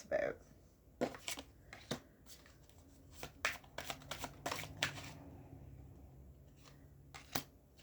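Tarot cards shuffled by hand during a reading, a quiet series of crisp riffling snaps and soft flicks spaced irregularly over several seconds, with no voice over them.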